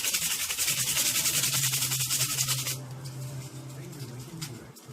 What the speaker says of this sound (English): You will go through a lot of sandpaper when you're doing that.